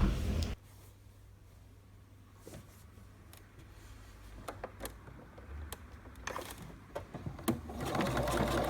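A sewing machine hums quietly and steadily while stitching round fabric edges with a quarter-inch seam, punctuated by scattered light clicks and taps and a louder burst of running at the end.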